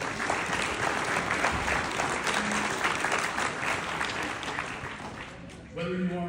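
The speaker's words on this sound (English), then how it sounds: "please, everyone, give yourselves a round of applause." Sustained applause from an audience in a meeting room, a dense, even clatter of many hands clapping that holds steady, then thins near the end as a voice begins speaking.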